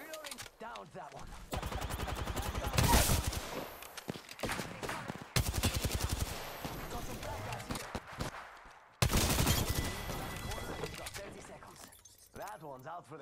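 Rapid bursts of gunfire from an Apex Legends match, loud and sustained in several long volleys separated by brief pauses, with game effects mixed in.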